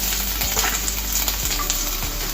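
Chopped garlic frying in hot oil for a restaurant-style gobi 65, giving a steady close sizzle broken by a few soft stirring scrapes, with no one talking.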